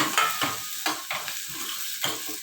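Green chilies stirred into a dal tadka in a hot pan, a spoon scraping in several rhythmic strokes over a steady sizzle, close and fairly loud with no talking.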